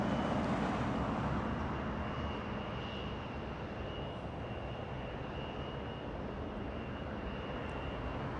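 An Aer Lingus Airbus A330 jet arriving at LAX, heard as a steady, moderately distant engine roar with a thin sustained whine, fading slightly after the first seconds.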